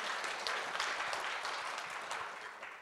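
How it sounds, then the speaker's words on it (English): Brief applause from a symposium audience, a dense patter of many hands clapping at moderate distance, fairly quiet and steady, tapering at the end. "Let's give her a round of applause."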